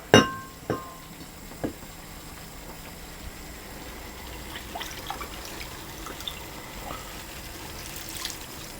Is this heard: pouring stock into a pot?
yes